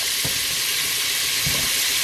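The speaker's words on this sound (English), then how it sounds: "we're just gonna start browning that meat" Oxtail pieces browning in a pan of butter and oil, a loud steady sizzle and crackle with a couple of soft thuds as the meat is moved.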